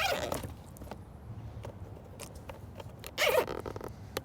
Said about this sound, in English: Hear that zip tie sound.